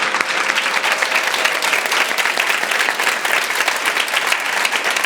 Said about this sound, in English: Let's give Alexis an amazing round of applause